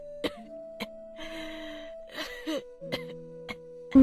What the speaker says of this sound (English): Suddenly I heard Grandma coughing.